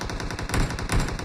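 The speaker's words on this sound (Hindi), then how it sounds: "लेकिन एक गन साउंड आता है" Rapid automatic gunfire from a shooter video game, a steady stream of evenly spaced shots, loud and continuous with no pauses or voices.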